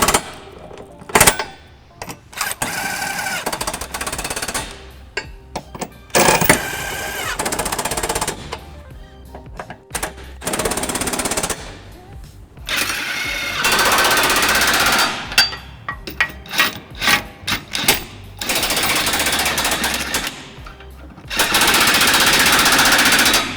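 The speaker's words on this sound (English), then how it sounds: "we're going to run these bolts up using a 17mm socket, and I've got a little impact here." A small impact wrench with a 17mm socket runs up trailer hitch bolts on a 2001 Lexus RX300, hammering in repeated loud rattling bursts of varying length separated by short pauses, close up with no talking.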